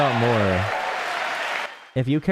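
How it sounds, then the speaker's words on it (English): Applause from the audience at a State of the Union address, a dense wash of clapping between stretches of speech that cuts off abruptly, with someone talking over the start and again after it. "they're clapping for him"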